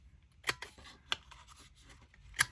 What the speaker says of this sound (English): I need to cut some tinfoil